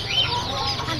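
Chicks for sale at a busy outdoor bird market, a dense chorus of high peeping and chirping from many birds close by, with no talk.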